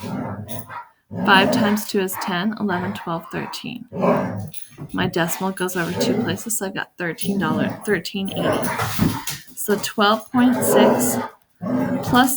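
Household dogs bark intermittently in the background while a person talks steadily through a math problem, the barks partly buried under the speech.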